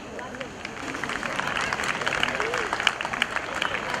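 Audience applauding at a community prize ceremony for schoolchildren, a dense steady clapping at moderate distance with a murmur of crowd voices underneath.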